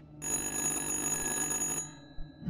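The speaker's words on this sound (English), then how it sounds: "Well, the phone's ringing." A single loud, sustained ring of a telephone bell in the horror game Little Hope lasts about a second and a half, then cuts off into quiet game ambience.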